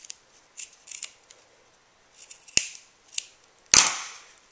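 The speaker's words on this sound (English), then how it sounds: "then I'm going to cut off the excess" Scissors snip excess ribbon off a handmade ribbon flower in a series of quiet, crisp cuts, a few light snips followed by two sharper, louder closes near the end, with no talking.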